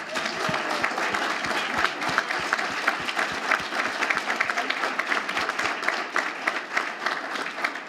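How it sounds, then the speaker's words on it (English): A conference audience applauds the event organizers at a leadership conference, with steady crowd clapping running throughout and sharp individual claps standing out near the front, plus faint voices mixed in. "can you help me to give them a round of applause?"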